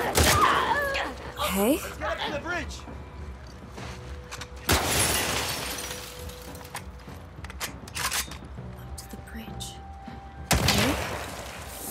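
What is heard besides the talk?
gunshots in video game The Last of Us Part 2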